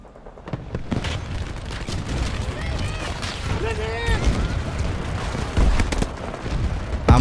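Battlefield 2042 gameplay with loud, continuous gunfire and booming blasts layered together, shots crackling in rapid bursts under a player's voice.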